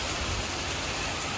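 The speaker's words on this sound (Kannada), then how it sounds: "ಯಾವ ಥರ ಮಳೆ ಬರ್ತಿದೆ" Heavy rain pours down in a constant dense hiss of drops hitting surfaces, steady and fairly close, with no voices over it.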